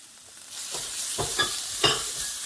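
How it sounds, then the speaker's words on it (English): Onions with ginger and garlic fry in a pan for a Pakistani dish, giving a steady close sizzle broken by a few louder scraping stirs, with no talking. "we're going to add our ginger garlic to that. We're going to fry this up a bit too."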